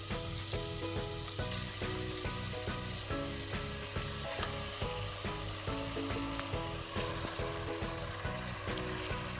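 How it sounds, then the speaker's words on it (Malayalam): Mutton frying in a pan with tomato and ginger-garlic paste gives a steady close sizzle with repeated scraping stirs at a fairly even rhythm, no voices. "ഇനി ഇതിലേക്ക് നമുക്ക് മട്ടൻ ആഡ് ചെയ്യാം."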